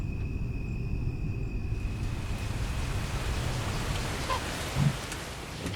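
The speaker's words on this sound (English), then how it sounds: "Gray skies turned into a steady drizzle hanging in the air" Steady drizzle in the Star Stable horse game makes a dense, even hiss of rain that runs without a break, with a faint soft thump near the end.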